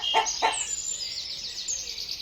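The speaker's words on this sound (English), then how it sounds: "hen," A hen gives two short, sharp clucking calls close by, followed by a steady high chirring trill that runs to the end; no one speaks.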